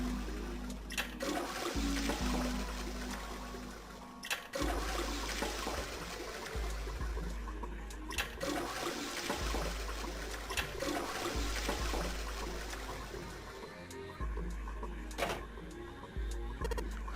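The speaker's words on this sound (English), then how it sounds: "I heard a loud flushing noise." A toilet flushes in the video game Nine Hours, Nine Persons, Nine Doors, a long, loud rush of water with gurgling and trickling that carries on for many seconds, broken by a few sharp clunks.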